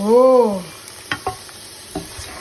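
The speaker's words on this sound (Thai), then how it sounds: "มาโชว์ผัดปูค่ะ" Blue crab with spring onions being stir-fried in a pan, with a few brief scraping stirs and soft sizzling after an opening voice-like tone.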